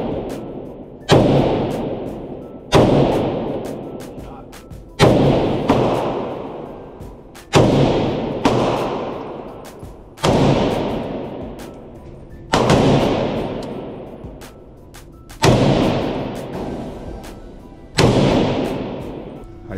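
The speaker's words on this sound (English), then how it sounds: "Kevin broke the thing with the AK-47." AK-47 rifle shots ring out at a gun range, eight loud single cracks spaced about two and a half seconds apart, each followed by a long echoing decay.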